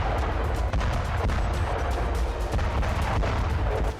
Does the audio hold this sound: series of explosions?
yes